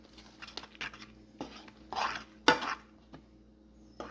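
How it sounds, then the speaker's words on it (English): Fork mixing noodles into ground meat in a pan, with irregular scrapes, clinks and soft sticky stirring sounds, quiet and close, no talk. "Mix it together."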